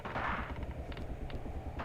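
Infantry gunfire in the 1943 Tunisia tank warfare video game, a muffled rumbling exchange of shots with a few distinct sharper cracks, moderately distant and steady over a short burst.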